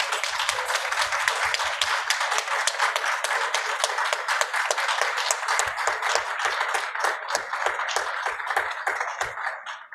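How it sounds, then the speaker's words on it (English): An indoor audience at a Commonwealth Pavilion session gives a full round of steady clapping that holds for the whole stretch and thins out only at the very end. "I want everyone here to give you a big round of applause."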